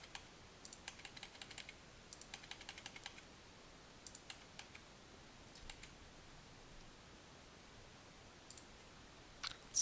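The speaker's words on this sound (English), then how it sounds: "Just using the arrow keys." Computer keyboard arrow keys pressed in short clustered bursts of light, faint clicks separated by pauses, with no one talking.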